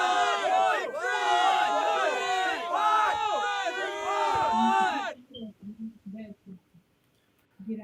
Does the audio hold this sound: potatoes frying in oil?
no